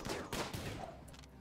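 Gunfire and grenade blasts from a RimWorld colony battle on sea ice, a few sharp bursts and crackling shots in quick succession, fairly loud with no talking over them.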